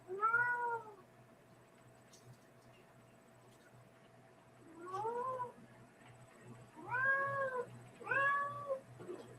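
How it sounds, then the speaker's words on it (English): A female cat left alone and panicking meows four times, one long cry, then after a pause three more close together, fairly near and clear over a low steady background hum. "then there's this cat."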